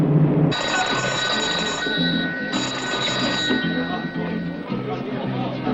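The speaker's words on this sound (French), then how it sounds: "Seigneur, c'est le téléphone pour vous." A telephone rings loudly in two long bursts of bright electronic bell tone, in a French-dubbed western film scene with room sound between the rings.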